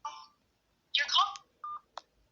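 A few short electronic telephone dialing tones and beeps sound in separate bursts against near silence, clear and close, as a call is placed to Waterbury, Vermont.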